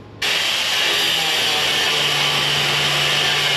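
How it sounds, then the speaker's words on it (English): An angle grinder starts abruptly and cuts steadily into a burnt go-kart seat frame, a loud, close, continuous high-pitched whine with no talking over it. "Time to break out the angle grinder here."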